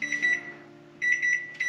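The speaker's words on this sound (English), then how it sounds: "There's the timer." A kitchen timer beeps while pizza dough rests, sounding in two bursts of rapid bright electronic pulses separated by a brief pause, clear and fairly close.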